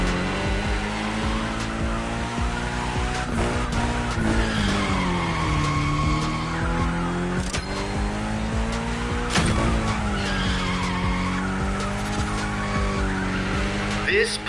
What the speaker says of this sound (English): Go drift, my friend. Go drift to your heart's content.